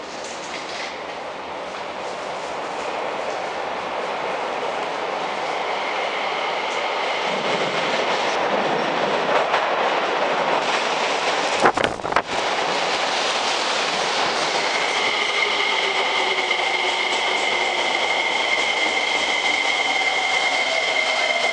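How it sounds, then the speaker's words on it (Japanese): A 303 series train rolls into Hakata Station, rumbling louder as it nears, with a sharp clank partway through and a high brake squeal as it slows. "2番乗り場に石川線行きの列車が到着します。"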